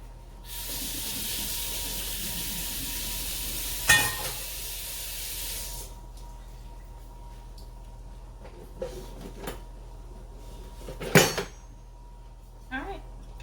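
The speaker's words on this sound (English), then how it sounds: "So we're gonna brown up this turkey." Turkey legs being browned in a pan give a bright spraying sizzle for a few seconds, then a quieter hiss with occasional clanks and scrapes of utensils on the pan.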